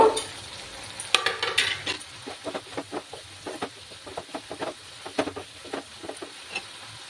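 Eggs being stirred and fried in a pan for a garlic methi egg kosha, giving a run of soft, rhythmic scraping and light sizzling strokes, close and fairly even, with no talking.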